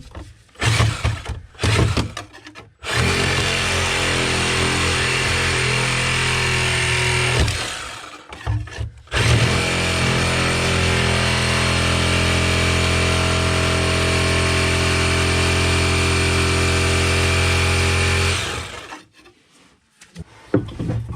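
Power saw with a diamond grit blade cutting into a boat transom on a Glastron Carlson CSS16, two long steady grinding passes with a hard buzzing drone, broken by short scraping starts and pauses, loud and close.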